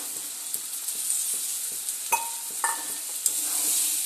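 Crab masala stir-fried in a pan as fried potatoes are added, a bright steady sizzle with soft rhythmic stirring taps and a few sharper metallic clinks.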